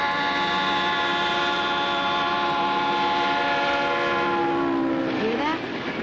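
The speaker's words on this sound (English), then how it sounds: "As a train goes by, the sound gets lower." A train horn blares loud and steady, then drops in pitch near the end as the train rushes past, showing the Doppler shift.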